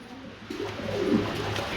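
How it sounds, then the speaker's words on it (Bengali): Pigeons kept for sale coo in a soft, throaty rising burble close by, a short single call standing out against quiet background noise. "এখানে কিন্তু আমরা আরেক জোড়া কবুতর দেখতে পাচ্ছি"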